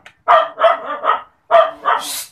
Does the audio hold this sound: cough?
no